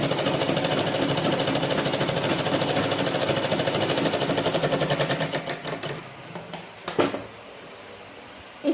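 A sewing machine stitches a blouse with a rapid, steady mechanical chatter for several seconds, then slows and stops, followed by a few short handling clicks and knocks.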